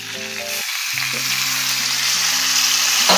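Green chilies and spices sizzle loudly in hot oil for stuffed brinjal, with a dense, steady crackle. A faint tonal hum runs beneath the frying.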